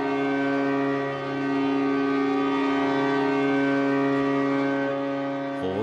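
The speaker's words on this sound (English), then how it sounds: "Horns and sirens sounded all across North Korea" Civil defense sirens and horns wail across North Korea during a nationwide standstill commemorating Kim Jong-il, a loud, steady, sustained tone with layered harmonics and no pauses, holding for several seconds.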